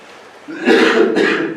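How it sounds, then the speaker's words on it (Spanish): Two rough, throaty coughs in quick succession from a speaker at an education lecture, close and fairly loud, with no talking. "hoy me está traicionando la tos"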